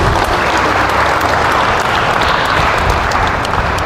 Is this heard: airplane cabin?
no